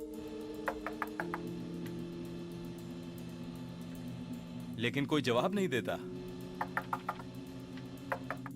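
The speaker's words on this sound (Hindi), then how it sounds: "अचानक ही दरवाजा खटखटाने की आवाज आती है" Knocking on a closed airliner cockpit door, a few quick clusters of sharp raps spaced across the clip, heard under a steady cabin hum, with someone speaking over it.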